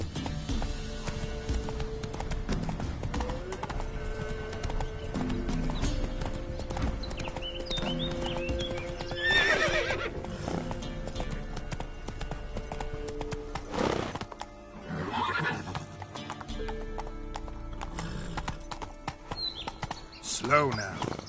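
Roach the horse in The Witcher 3 trots with steady clip-clop hoofbeats through a 21-second stretch, with a whinny rising partway through and game music and a voice present alongside.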